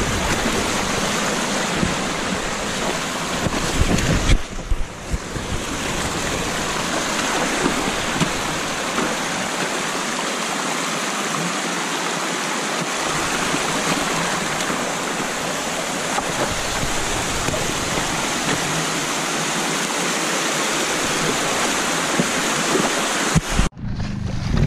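Water rushing down a rocky stream in the north of England, a loud, unbroken roar heard close up throughout, with no talk over it.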